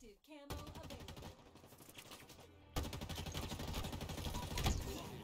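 Rapid bursts of Covenant weapon fire in the Halo video game, rattling in dense repeated volleys that drop briefly and then return louder.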